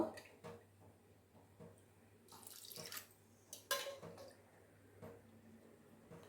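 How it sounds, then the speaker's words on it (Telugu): Water from a tap runs into a bowl of soaked chana dal being readied for masala vada, a light splashing pour with a couple of louder bursts in a quiet kitchen. "దీంట్లో వాటర్ పోసుకుందాము."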